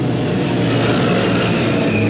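Motorcycles on the Phillip Island race track, including a Moto Guzzi Griso track day, roar in a loud, continuous engine drone with no pauses throughout.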